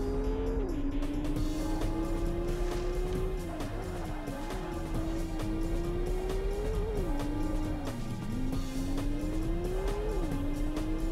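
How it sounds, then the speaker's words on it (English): A Porsche slides on a snowy track in the racing game Porsche Challenge, its engine droning loud and steady with shifting pitch and faint tire squeal mixed in throughout. "So even though we got the maximum grip, the car still does slide on the snowy level"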